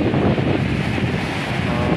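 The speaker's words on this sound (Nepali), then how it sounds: "तिनाउ खोला यसरी उल्टेर आएको अवस्था छ" Floodwater of the Tinau river in Butwal surges after three days of continuous heavy rain, a loud, steady broadband roar of rushing water that fills the whole stretch without pause.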